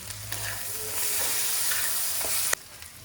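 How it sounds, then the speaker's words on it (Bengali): Spices being stirred with salt for a Bengali fish curry in a pan, a steady hiss of frying with scraping stir strokes and a sharp clack near the end, close and moderately loud. "লবণ দিয়ে ভালো করে একটু নাড়িয়ে নিলাম।"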